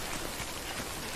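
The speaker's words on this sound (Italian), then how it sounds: "già comincia a piovere" Steady rain falls across an open outdoor landscape in Death Stranding, a dense, even hiss of drops with no breaks, moderately quiet and heard alone with no talking.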